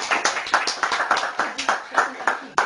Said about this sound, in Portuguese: Uma salva de palmas para a Terezinha.